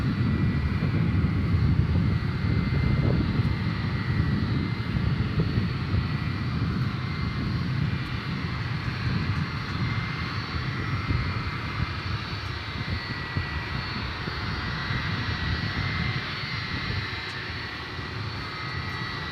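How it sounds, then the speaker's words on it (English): Two Boeing 757 airliners approach DFW Airport, heard as a loud, continuous jet-engine roar that stays steady and close before easing slightly toward the end. "so here are the two 757s coming at us."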